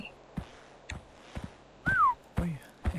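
Whistling in the horror video game Unforgiving - A Northern Hymn, a short falling whistled note and a brief low tone amid scattered thumps and footstep-like knocks, fairly close and without talk.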